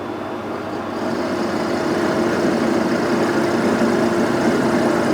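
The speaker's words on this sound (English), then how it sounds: "The first line of attack is a high-speed steel milling cutter." A milling machine drives a high-speed steel cutter into a hardened steel gear while repairing an oversize hole, giving a steady, loud mechanical drone with a faint tonal hum that continues unbroken throughout, with no voices.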